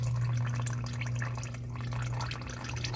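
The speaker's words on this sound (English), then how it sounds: "as the dripping slows down" Engine oil drips from the drain hole of a 2010 Toyota Yaris during an oil change, a few soft close drips over a steady low background hum, with no one talking.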